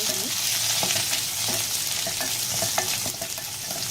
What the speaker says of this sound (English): I'm going to throw in the fresh curry leaves and the coarsely ground garlic. And we're just going to fry this on a low to medium heat